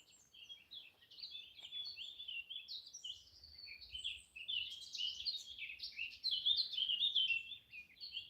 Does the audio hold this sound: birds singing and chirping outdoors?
yes